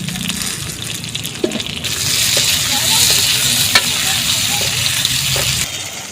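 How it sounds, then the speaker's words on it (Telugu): Tomatoes go into a pan of okra and fry with a loud, continuous sizzle, while stirring adds scraping over the steady hiss. "ఇప్పుడైతే టమాటాలు అయితే వేసుకుంటుందండి."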